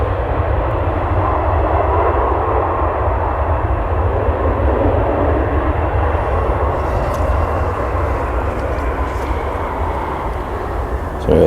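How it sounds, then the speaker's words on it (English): A jet airliner applies reverse thrust on landing at Leeds Bradford Airport, a loud, steady roar that fills the whole stretch and eases slightly near the end. "Reverse thrusts."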